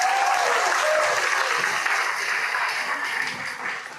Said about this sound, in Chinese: 大家给他们一个掌声。